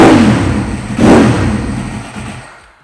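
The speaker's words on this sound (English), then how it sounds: "it really does sound like a bit of a caged animal" A Ducati 1098R motorcycle with a dry clutch revs up close and loud, surging at about one second and then winding down, its deep engine roar carrying a rattling edge.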